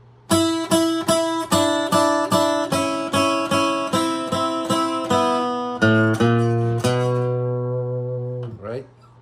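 Electric or acoustic guitar plays a slow open-string blues turnaround: a steady run of about a dozen plucked notes, then sustained ringing chords that fade, with a brief scrape at the end.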